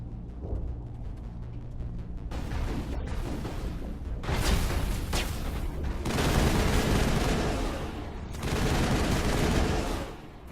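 Sustained gunfire in Mass Effect roars in long, dense bursts with booming impacts, building from a low rumble into loud volleys separated by short pauses.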